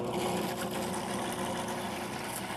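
A Cuisinart Elite Collection 14-cup food processor, model FP-14DCU, blends an olive oil vinaigrette with a steady, close motor whir and a faint rattle, unbroken for the whole short span with no talking.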